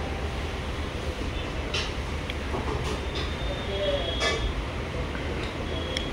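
Train pulling into a station on a Jajpur Road to Sambalpur sleeper-class journey, a steady loud rumble with faint horn-like tones and brief squeals, over constant platform noise and some voices.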